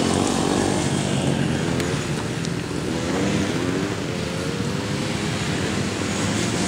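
A small pull-start engine runs steadily at high throttle throughout, a dense continuous roar close by with no pauses and no voices.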